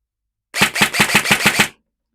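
An airsoft rifle fires a rapid burst of about seven closely spaced shots, sharp and loud up close, lasting just over a second after silence.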